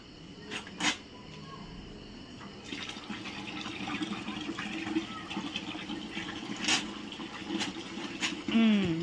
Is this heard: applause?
no